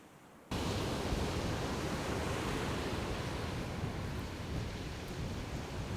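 Waves washing onto a small beach during a fishing trip, a dense steady roar of surf that sets in abruptly after a brief quiet moment and then holds evenly.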